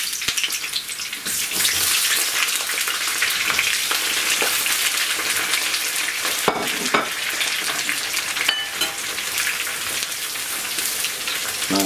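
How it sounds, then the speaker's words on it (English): Aubergine pieces frying in a pan give a steady, dense sizzle and crackle throughout, with occasional louder pops and stirring clinks close by, and no talking. "Now while the aubergines are frying, I'm going to grind this onions in this."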